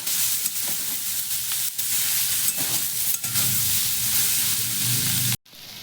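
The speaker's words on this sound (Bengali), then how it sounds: "দিয়ে দিচ্ছি হলুদ, এবার আমি একে ভালোভাবে ভাজবো" Spices and turmeric frying in a pan while being stirred, a loud continuous close sizzle and hiss with occasional scraping, cutting off abruptly near the end, no talk.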